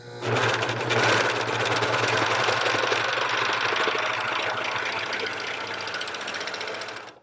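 A Janome 634D serger runs at speed stitching a seam, a loud rapid mechanical chatter with a low hum, easing slightly before stopping.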